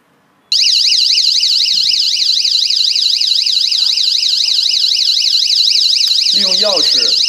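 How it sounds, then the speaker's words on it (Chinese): An anti-theft security alarm on a camera display stand sounds after the camera is pulled from its sensor: a loud, continuous warbling electronic siren that starts abruptly and keeps going, with a brief voice faintly heard near the end. "当数码相机被强行与传感器分离时，报警器立刻报警。"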